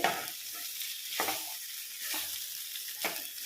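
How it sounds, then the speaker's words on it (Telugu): Pumpkin pieces simmering in a seasoned tempering for curry on a low flame, giving a steady soft sizzle and bubbling hiss with occasional stirring scrapes, close and continuous. "గుమ్మడికాయ ముక్కలు వేసి ఇట్లా సిమ్ మీద పెట్టి కొంచెంసేపు ఉడికించాలి"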